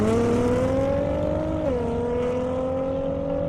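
A BMW M5 Competition and a Dodge Hellcat race a half-mile airport strip. Loud, close engine roar climbs steadily in pitch, dips briefly at a gear change, then keeps pulling hard with no voices over it.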